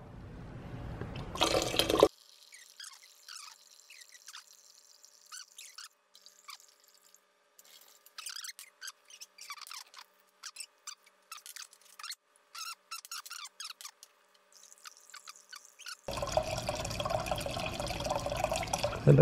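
Bacardi Superior rum poured into an air still: a thin liquid stream trickles and splashes with small drips and squeaks for most of the run. Louder bursts of handling noise come before and after it.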